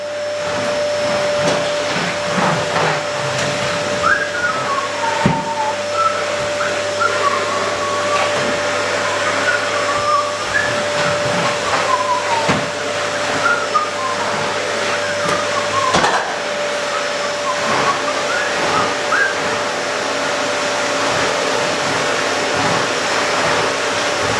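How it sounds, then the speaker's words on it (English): A vacuum cleaner runs loudly and steadily throughout, its motor whine constant with occasional bumps and shifts as it moves across surfaces. "So you grab the vacuum cleaner and vacuum up after yourself."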